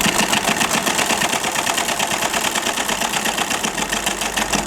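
An electric sewing machine runs steadily and continuously while stitching the bottom hem of an Aligarh-style pyjama, a close, even motor whir with a fast rhythmic needle chatter and no talking.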